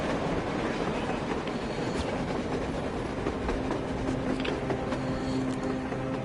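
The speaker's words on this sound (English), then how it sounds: "A train! A damn train on the surface!" A train rolls past on the surface in a video game, a dense, loud rumble with rhythmic clattering of wheels that holds steady for several seconds with no talk.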